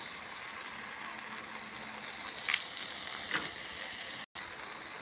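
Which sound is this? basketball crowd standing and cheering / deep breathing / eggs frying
eggs frying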